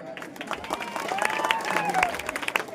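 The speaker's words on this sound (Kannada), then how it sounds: "ಬರ್ಲಿ ಒಂದ್ಸರಿ ಜೋರ ಚಪ್ಪಾಳೆ" Crowd applause at a live stage event, dense clapping sustained for a few seconds with scattered voices and cheering mixed in, moderately loud and diffuse.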